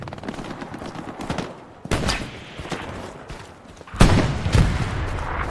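Rattling bursts of gunfire in the World War II shooter game Hell Let Loose, scattered shots and volleys at middle distance with a couple of louder, closer cracks, over steady battlefield ambience and without speech.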